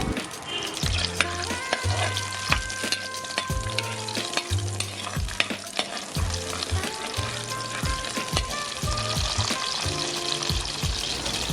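Shallots sizzling in hot coconut oil in a pan for pearlspot fish curry: a loud, continuous crackling fry close up, punctuated by sharp clanks and scrapes of a spoon stirring against the pan.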